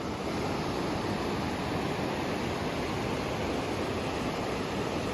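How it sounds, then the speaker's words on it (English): Paiute Creek rushing along a mountain trail, a steady broadband roar of flowing water close by, unbroken for a few seconds with no voices over it. "There's Paiute Creek that we're following down."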